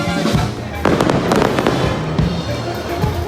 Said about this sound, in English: And at nightfall, we were entertaining with fireworks.